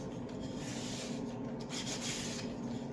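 Hand sanding runs along the edges of CNC-cut wooden pieces, a soft, continuous rasping of abrasive on wood, quiet and close with gentle changes in pressure.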